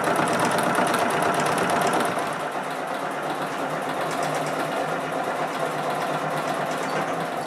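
A sewing machine runs steadily, stitching small pieces of artificial fur fabric together, its rapid mechanical chatter continuous and close, loudest at the start and then holding a constant whirring pace.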